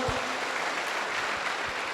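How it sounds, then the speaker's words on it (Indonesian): A university audience applauds in a dense, steady wash of clapping that lasts just under two seconds. "dahsyat sekali katakan tepuk tangan dong"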